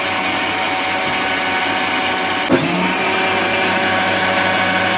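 A mixer grinder grinding cashews whirs in a steady, loud drone throughout, with a brief knock midway; no one speaks.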